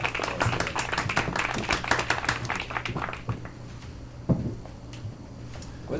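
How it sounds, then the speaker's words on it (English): An audience at a Korean traditional liquor festival talk show claps for the guests, a burst of mixed clapping that fades after about three seconds, followed by a few scattered knocks. "Oh, that clap was for everyone."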